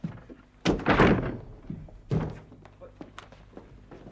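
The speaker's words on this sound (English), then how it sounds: "Well, break it down, here." A locked door is forced open in a television murder-mystery drama: heavy, booming thuds and a slam, the first a sustained crash and a second blow shortly after, with voices talking around them.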